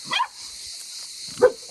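Two sharp, close barks from a dog in a home where shepherd puppies and a small terrier are being fed, separated by a second of quiet hiss.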